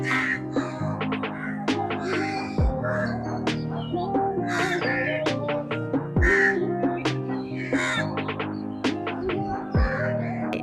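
Crows cawing repeatedly at a riverside ferry ghat, several harsh calls overlapping at close to middle distance over a steady background hum, with no talking.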